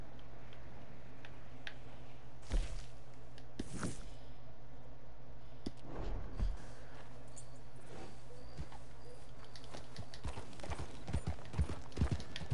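Horse hooves clip-clop in Red Dead Redemption 2, a steady, moderately close rhythm of hoof strikes over a low background rumble, with no talking.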